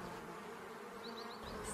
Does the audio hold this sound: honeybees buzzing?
yes